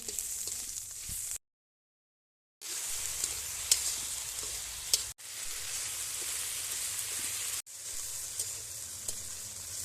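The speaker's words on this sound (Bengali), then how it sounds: "দিয়ে মশলাটা একটু কষিয়ে নিলাম" Garlic and chili paste masala with salt and turmeric sizzling in a hot pan, a steady crackling hiss broken by short gaps and a few sharp pops of stirring.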